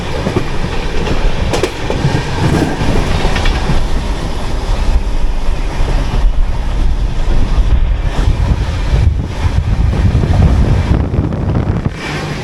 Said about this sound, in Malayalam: ഭയങ്കര ചൂട് കാറ്റ്.